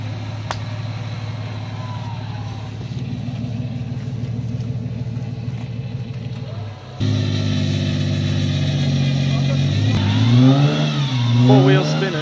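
A 4WD engine revs hard while its wheels spin in deep mud on a Neerim South bush track. The steady rumble climbs into louder, rising revs near the end, and people talk over it.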